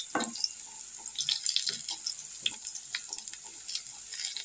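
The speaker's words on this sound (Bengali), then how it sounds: "প্রথমে আমি একটু আলুগুলোকে একটু লাল লাল করে ভেজে নিচ্ছি" Potatoes fry in a pan to a reddish brown, giving a steady, fairly quiet hiss and crackle with a few scattered stirring clicks and scrapes and no talking.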